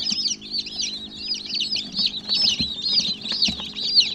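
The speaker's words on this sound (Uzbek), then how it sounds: "Yasab bergan inkubatoringizdan mana jo'jalar ochib chiqdi." Newly hatched chicks from a homemade incubator peep constantly, a dense, close chorus of high, shrill cheeps with a few soft bumps and scuffles beneath.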